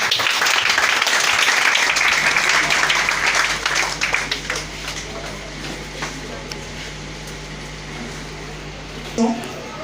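Loud crowd applause and acclamation for Jesus Christ at a worship gathering, dense clapping at first that thins out and fades over time under a low steady hum, with a brief knock near the end.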